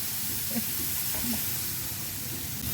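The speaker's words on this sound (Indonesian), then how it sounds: "Ini yang ditumis itu gerambang bawang sama cabai ya, cabai besar, cabai kecil." Garlic and chili, both large and small chilies, stir-fried in a pan in a home kitchen, giving a steady loud sizzle and hiss throughout with faint stirring scrapes and no talk.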